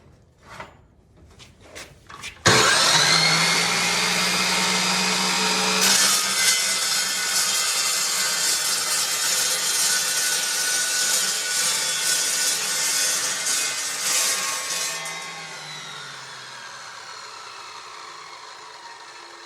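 An Evolution Evosaw 380 metal-cutting miter saw starts with a sharp jolt after a few light taps, its motor whining loud and close while the blade grinds through metal, then spins down slowly without a brake.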